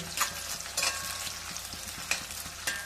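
Whole garlic cloves frying in mustard oil for a spicy Bengali mutton curry, a steady close sizzle broken by several brief scraping stirs of the spoon through the pan.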